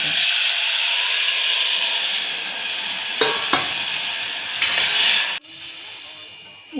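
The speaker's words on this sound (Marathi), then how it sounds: "ह्याची फोडणी करायची." A loud, close sizzle and hiss of tempering (phodni) for katachi amti, a Maharashtrian lentil stock with whole spices, poured into hot oil, with a couple of brief clinks before the hiss cuts off sharply near the end.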